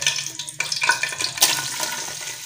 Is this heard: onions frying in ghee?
yes